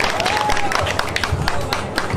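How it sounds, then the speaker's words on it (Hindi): An audience applauding to welcome a guru at a YouTuber meetup in Patna. Steady, busy clapping with a voice faintly heard under it. "तालियां बजाइए गुरु जी का स्वागत है।"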